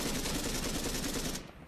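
Sustained rapid gunfire in the military shooter Arma 3, dense and loud, rattling continuously before cutting off abruptly near the end, with no talk.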